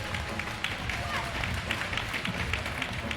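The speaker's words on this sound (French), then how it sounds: "Applaudissements pour Noé" A crowd at an amateur freestyle scooter competition final applauds a rider with dense, continuous clapping that stays steady for several seconds, and crowd noise mixes in with it.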